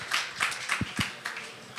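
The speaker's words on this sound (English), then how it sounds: "Let's give them a warm round of applause, folks." A small audience gives a short round of clapping for panelists at a crypto event, a few distinct claps in a loose rhythm, fairly faint and brief.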